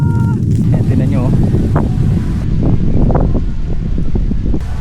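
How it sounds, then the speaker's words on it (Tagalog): Strong, steady wind roars and buffets the microphone throughout at a campsite at night, with low rumbling gusts and faint voices underneath. "Dahil sa lakas ng hangin."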